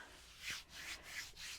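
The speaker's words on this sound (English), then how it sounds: "Give those feet a rub." Hands rubbing bare feet during a gentle yoga relaxation session, a soft close swishing friction in several slow back-and-forth strokes, quiet and alone.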